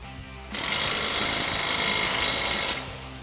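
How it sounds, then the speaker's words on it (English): An impact wrench with a 19 mm socket and extension tightens a bolt on a Rough Country upper control arm suspension lift, giving one loud rapid hammering burst of about two seconds, close up, with quiet before and after. "we'll grab our 19 mil socket and extension on our impact and our 19 mil wrench"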